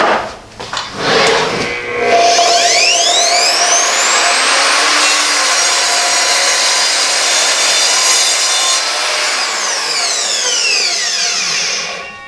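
An Evolution R255SMS sliding mitre saw spins up with a whine, then bites through a piece of wood decking in one long, loud, steady cut before winding down near the end.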